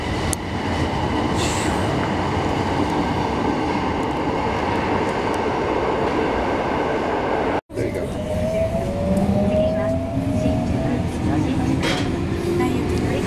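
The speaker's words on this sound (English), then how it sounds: "The subway." A subway train in Japan roars past close by in a dense, loud rumble, briefly cutting out, then continuing with rising metallic wheel squeals.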